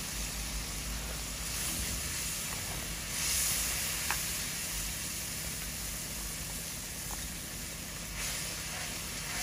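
Shrimp curry with kochur mukhi sautéing after a splash of water, a steady close hiss and sizzle filling the whole stretch with a couple of faint clicks, no voices.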